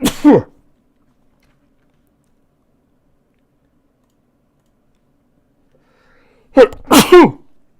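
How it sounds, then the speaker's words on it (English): A single sharp sneeze bursts out, followed by several seconds of silence and then a double sneeze, loud and close. "I'm gonna sneeze here in a second."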